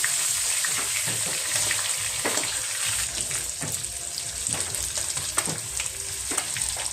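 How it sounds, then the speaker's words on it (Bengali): Marinated chicken fries in a kadai with a steady sizzle, broken by occasional stirring clatter and a faint watery trickle. "তো আমি এখানে ম্যারিনেট করা চিকেনটা সুন্দর করে ভেজে নেব।"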